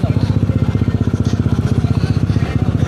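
Motorcycles at a gathering of riders, with a nearby engine idling in a steady, loud, rapid pulsing throb that runs throughout.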